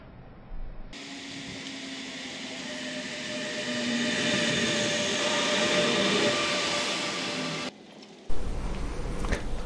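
Steady rumble and hiss of a train in motion, heard from inside, growing slightly louder, then cutting out abruptly before another burst of noise.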